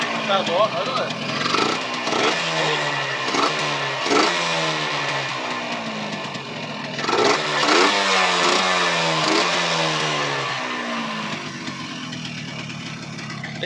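An abandoned Yamaha motorcycle engine runs close by, revving up and dropping back repeatedly in rising and falling sweeps over a steady idle.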